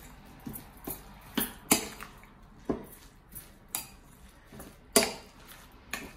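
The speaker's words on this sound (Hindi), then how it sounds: "सारे चीजें डाल के इसको अच्छे तरीके से मिक्स कर लेना है।" A utensil clinks and scrapes against a bowl while rice kebab ingredients are mixed, producing about a dozen sharp, irregular knocks close by, with no talking.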